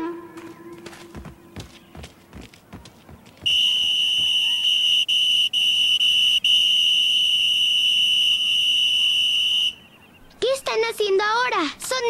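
A shrill, sustained whistle blast in an animated children's cartoon scene, preceded by knocking sounds and followed by excited voices.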